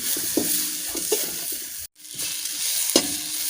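Tomatoes cooking in a pan for beans palya, stirred until soft: a steady sizzle with a few scraping strokes of the spatula, one brief break in the middle, close and fairly loud with no talking.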